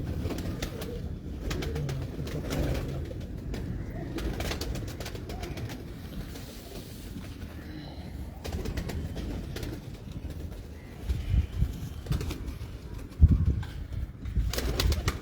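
Pigeons of a known breed coo in a loft, soft low repeated coos mixed with occasional wing flaps and shuffling, near and fairly loud, with no talking over them.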